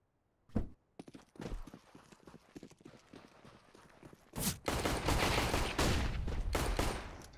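Glock pistol gunfire in the video game CS:GO during a pistol round, scattered sharp shots early giving way to a dense, loud rattle of rapid firing and footsteps in the second half.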